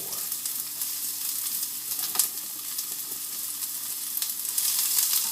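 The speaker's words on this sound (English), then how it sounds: "we want to cook these onions where it's translucent, where you can see right through them" Onions frying in a hot skillet give off a steady, close sizzle with crackling hiss and a few brief stirring sounds, heard alone without talk.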